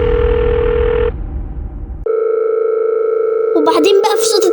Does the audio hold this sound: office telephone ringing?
yes